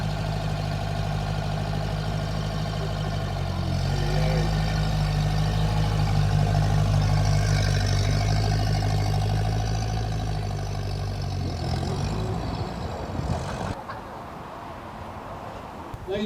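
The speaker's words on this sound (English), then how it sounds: "the gentleman with the tractor is either moving it or he's leaving because of the rain" A tractor at an outdoor classic vehicle club show runs with a loud, steady low engine rumble as it moves off, swelling slightly mid-way before fading and cutting lower near the end.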